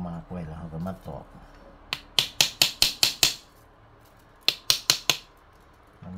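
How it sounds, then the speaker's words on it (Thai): Someone pounds bamboo strips while weaving a bamboo fish trap. A voice talks at first, then come two quick runs of sharp, close knocks, about six and then four, with short gaps between them. "พอมากไว้แล้วเขาก็มาตอก"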